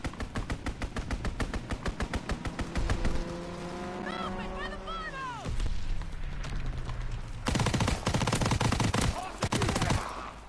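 Enemy strafing run in a Call of Duty WW2 beta match: dense machine-gun bursts rattle loudly, then an aircraft engine roars past with a falling pitch before more heavy automatic fire, with battle chatter mixed in.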